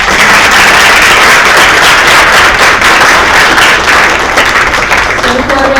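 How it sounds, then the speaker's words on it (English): An audience at a community engagement conference applauds panelists after a discussion, a dense, loud, continuous roar of many hands clapping that fills the room and fades only slightly toward the end. "let's give one more round of applause for our"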